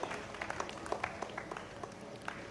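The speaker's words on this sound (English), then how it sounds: "Let us join the presentation by clapping our hands" Ceremony audience applauding at the closing of a state-level festival, a faint, scattered patter of hand claps spread through the crowd.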